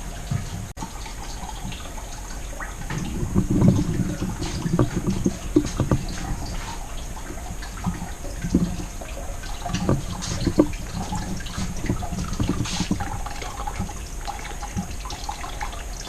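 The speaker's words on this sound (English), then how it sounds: "we still have quite a bit of water to go through and quite a bit of silt to pick up from the bottom of this" Water flows steadily through silt and sediment in a small delta experiment modeling Mars, making a soft continuous trickle with scattered drips and gurgles throughout.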